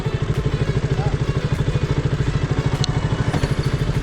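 A motorcycle riding downhill on a hill road, its engine giving a steady, close, rhythmic thrumming pulse with light clatter throughout.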